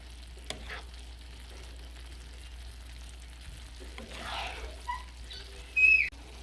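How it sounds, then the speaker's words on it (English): A creamy sauce simmers in a pan on a home stove while a utensil stirs it, giving a faint, soft bubbling under low background hum, with a few clinks and scrapes near the end. "As you can see, we are simmering, and we are going to mix this and wait for it to thicken."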